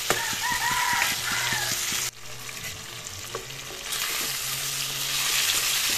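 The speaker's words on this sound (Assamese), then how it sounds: "এনেদৰে 5 মিনিট সময় মই মাছখিনি ভাজি ল'ম" Fish pieces fry in hot oil in a pan with a loud, continuous sizzle that briefly drops in intensity partway through, with no talking.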